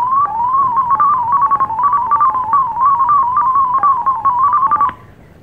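Thor 22 digital radio mode tones from FLDIGI software, a fast sequence of warbling stepped tones that dances steadily around one pitch band for about five seconds, then stops abruptly.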